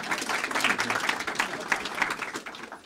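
An indoor audience gives a round of steady applause, many hands clapping together at moderate volume for a few seconds, with faint voices mixed in.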